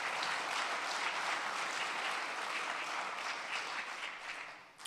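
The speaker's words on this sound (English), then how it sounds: "please give a round of applause to Mercantile Bank" An audience at an evening talk on energy and climate change gives a steady, dense round of applause for sponsor Mercantile Bank, sustained and even before tapering off at the end.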